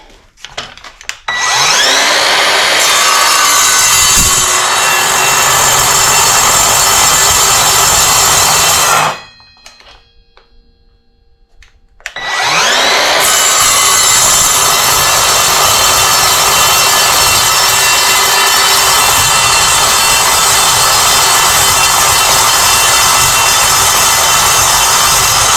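An Evolution R185SMS-Li cordless 7-1/4 inch sliding miter saw cutting a short piece of wood, a loud sustained whine and rasp that breaks off briefly for a few seconds of near silence, then returns at full strength.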